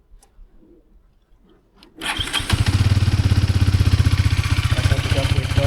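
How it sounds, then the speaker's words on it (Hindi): A Hero Xtreme 250R motorcycle starts up after quiet background noise, and its exhaust settles into a loud, steady, throbbing idle close by. "एग्जॉस्ट इतना भी ज़्यादा लाउड नहीं है, डिसेंट एग्जॉस्ट है।"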